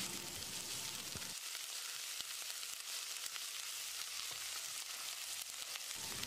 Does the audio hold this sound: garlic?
yes